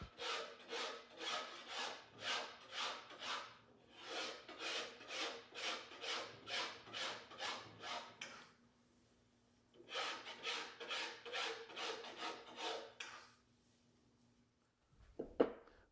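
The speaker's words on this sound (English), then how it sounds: "I'm going to remove material from the center line to the tip" Rhythmic rasping strokes of a file removing wood from a bow limb, working from center line toward the tip, in two steady runs of close, even passes separated by a pause, with a brief knock at the end.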